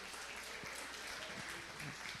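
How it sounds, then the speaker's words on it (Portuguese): A congregation applauding during a Saturday online church service, a soft continuous patter of many hands heard faint and distant, with some voices mixed in. "Vamos aplaudir o Senhor Jesus."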